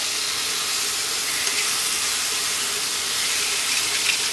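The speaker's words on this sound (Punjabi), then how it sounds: "ਚਟਣੀ ਨੂੰ ਲਾਤਾ ਤੜਕਾ" Hot oil poured over chutney to temper it makes a continuous, even hissing sizzle heard up close for several seconds, without talk.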